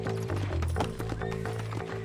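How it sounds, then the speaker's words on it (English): A horse in the video game Red Dead Redemption whinnies over a run of clip-clopping hooves, close and fairly loud for about two seconds, with a voice faintly under it. "Here's your horse."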